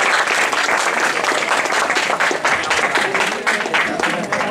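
A room of college students applauds a handful of classmates who organized an event, a loud, dense, steady round of clapping from a large crowd lasting several seconds with no speech over it.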